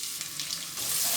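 Sliced onions dropped into hot oil in a pan for a potato and mongray vegetable dish, giving a brief, close, hissing sizzle that grows a little louder toward the end.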